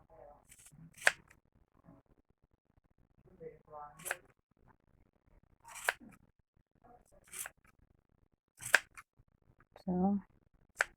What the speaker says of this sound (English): So you have to cut the end of the yarn like this one